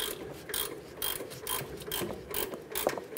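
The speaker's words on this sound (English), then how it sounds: "Once we get this nut" A hand ratchet works a rusty nut loose from an upper control arm mounting bracket on a 1994-2004 Chevrolet S10, heat and penetrant already applied, giving a steady run of close, rasping pawl clicks in rhythmic strokes.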